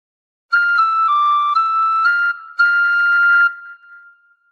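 A tin whistle plays a phrase of the Star Spangled Banner: a few clear, pure held notes stepping up and down, ending on a long sustained tone that fades, alone with no talking.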